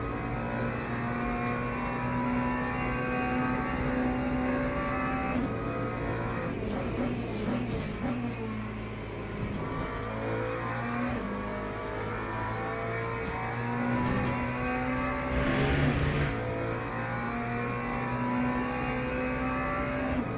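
LMP3 race car engines in Le Mans Ultimate, a continuous droning engine note that rises and shifts with gear changes and revving, close and steady throughout, with other cars faintly around.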